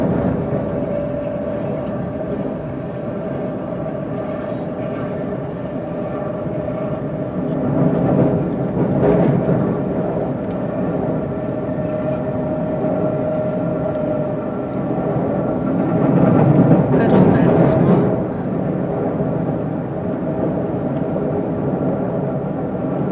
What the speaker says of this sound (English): Let's listen as the railroad bridge takes us high above the entrance to San Pablo Bay.